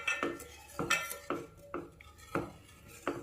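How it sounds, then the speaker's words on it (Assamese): A spatula stirs milk in a pot as it heats for homemade curd, making about six rhythmic clinking scrapes against the metal at a steady pace, close by and unaccompanied by speech. "গাখীৰখিনি লৰাই থাকিব।"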